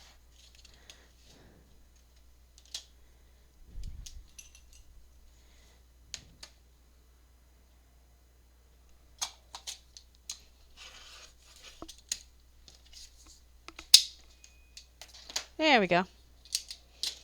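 Scissors cutting thick chipboard from a candy box for a hard-cover junk journal: sparse, close snips and small clicks spread over quiet stretches, with a short spoken remark partway through.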